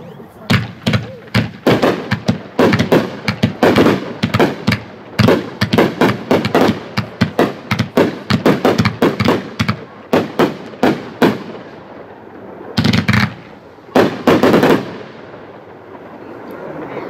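A Candy Bang 25-shot, 500-gram firework barrage cake fires a rapid run of loud, sharp outdoor bangs in quick succession, with a brief pause before a couple of final clusters and crackling tails.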